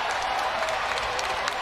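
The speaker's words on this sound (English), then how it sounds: "The crowd showing their approval and their appreciation." Crowd applauding at a boxing event after a YouTubers-versus-TikTokers fight, a steady wash of clapping at moderate distance without any talk.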